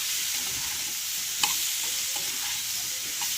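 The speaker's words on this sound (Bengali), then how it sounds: "হলুদ, এগুলোকে ভালো করে সবজিগুলোর মধ্যে মিশিয়ে নাড়াচাড়া করে দেব।" Mixed vegetables with turmeric frying in a pan, producing a steady dense sizzle with gentle stirring and one brief spoon clink, close and continuous with no voices.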